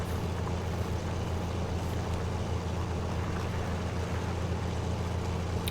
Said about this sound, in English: Been tweaking the volume of the tractors again.